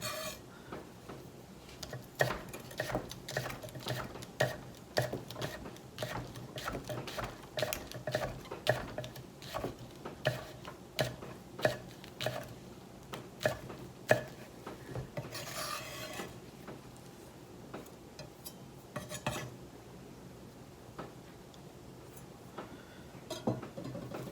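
A knife cuts repeatedly into a mystery-box item, giving a steady run of close, sharp rasping and scraping strokes with short pauses between them.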